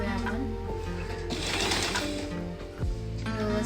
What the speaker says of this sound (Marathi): शिलाई देतोय आपण.